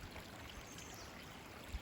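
River water flowing steadily along a forest trail in the Allegheny National Forest, a constant broadband rush with no voices.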